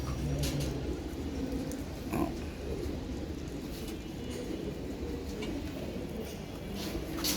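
A crowded pigeon loft full of birds: a dense, low murmur of many pigeons cooing and rustling close by, with occasional wing flaps and clicks over a continuous bed of sound.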